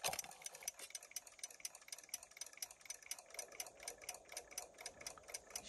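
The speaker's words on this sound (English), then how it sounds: "She's ticking some." A vintage Westclox alarm clock ticks in a fast, steady, even rhythm. The sound is close and faint and runs alone throughout.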